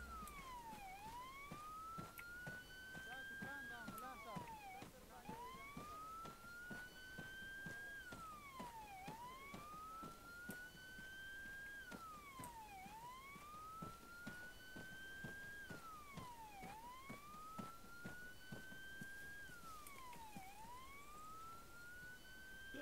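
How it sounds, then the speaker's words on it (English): A wailing emergency siren in a military video game, rising and falling in a steady repeating cycle of long upward sweeps followed by quick drops, sustained and moderately loud against a background of clicks and ambient noise. "I think an ambulance is coming up now."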